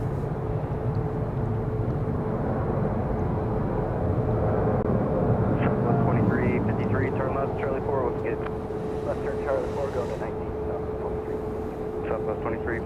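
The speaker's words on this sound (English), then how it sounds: "So we go back to this plane, which is parking right below us," An airliner taxis to a gate at Dallas Love Field, a steady loud engine drone and whine holding throughout, close by, with faint higher chirps and tones mixed in.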